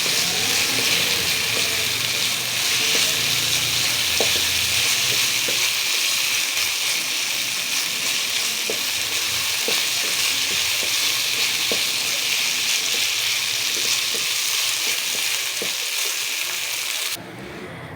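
Minced qeema fried in a pan with chopped green chillies gives a loud, continuous sizzle with occasional stirring scrapes and light taps throughout, then drops off abruptly at the end.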